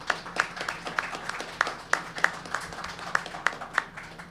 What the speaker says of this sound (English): So maybe a round of applause for John Vargo